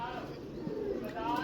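A Red Rose breed pigeon coos softly and fairly close by, low and faint, with a voice talking over it.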